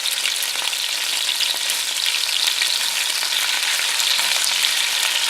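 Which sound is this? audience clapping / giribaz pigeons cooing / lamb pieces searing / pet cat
lamb pieces searing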